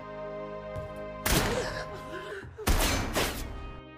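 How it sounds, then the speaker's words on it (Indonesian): Gunfire is aimed at a shipping container in two loud, dense bursts of rapid shots, each with a booming low thump, set against a sustained tonal background. "Lalu si petugas yang tengah berada di luar memerintahkan anak buahnya untuk menembak kontainer itu."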